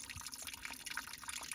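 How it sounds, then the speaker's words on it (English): Water from a trail spring on the Appalachian Trail trickles and splashes steadily into a water bottle, a soft continuous patter with no voices. "put your water bottle underneath there and wait a few minutes, and you got a beautiful full water bottle"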